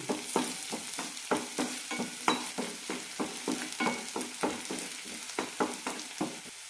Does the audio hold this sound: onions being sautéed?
yes